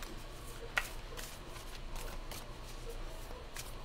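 A deck of cards is shuffled during an intuitive card reading, giving soft, papery riffling bursts that come in quick, faint rounds close to the microphone, with no talking.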